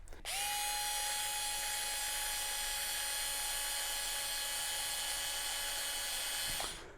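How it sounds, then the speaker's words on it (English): An Ingco cordless screwdriver runs at its top speed setting, giving a steady high-pitched motor whine that starts abruptly, holds constant for about six seconds, then stops, close and alone. "We're going to put all of the machines on their top setting and see what RPM they're able to achieve."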